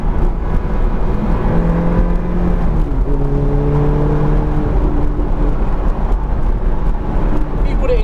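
Ferrari F430 engine droning steadily from inside the moving car, a constant close hum with rising and falling tones as it shifts, while people talk over it.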